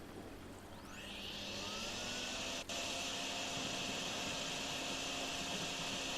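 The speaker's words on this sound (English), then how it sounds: "That's probably why I couldn't hear the vacuum." A vacuum in the Drain Sim video game sucks with a steady, faint whooshing hiss that rises in at the start and then holds constant, broken by one brief click.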